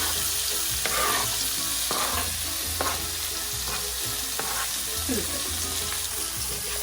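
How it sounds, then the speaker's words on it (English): Onion, garlic and pepper frying in a pot for Trinidad stewed fish, a steady loud sizzle throughout with a spoon scraping and knocking through it at intervals, close up, no speech. "we're just going to stir this around a bit because we need to fry this out."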